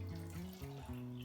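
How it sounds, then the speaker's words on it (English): Water sloshed and swirled inside an emptied tin of chopped tomatoes in a home kitchen, a steady close-up liquid rumble with shifting gurgling tones throughout. "to just swish around the tin so you're getting all the tomatoes in there"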